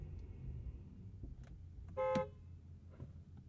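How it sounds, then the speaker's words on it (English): Porsche Taycan rear-wheel-drive electric car horn giving one short, loud, steady honk, heard alone from inside the car. "Let's do the world-famous horn test."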